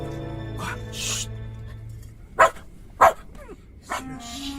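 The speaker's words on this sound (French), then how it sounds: "C'est le chien." Dog in an audio drama, two sharp barks about half a second apart and a third softer one, set against background music with some movement noises.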